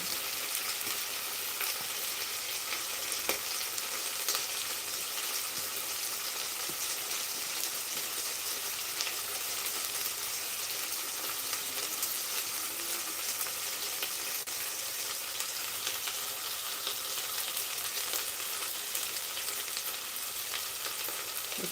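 Ingredients for khichdi fry in a pan, giving a steady, even sizzle with a broad hiss that holds for the whole stretch, with faint stirring ticks and no voices.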